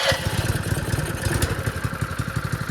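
Small engine on a Crust Buster seed tender firing up with the choke on and settling into a steady, loud, rapid chugging idle with a clattery pulse, close by and with no talk over it.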